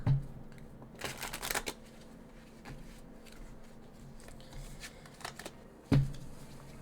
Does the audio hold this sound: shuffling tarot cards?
yes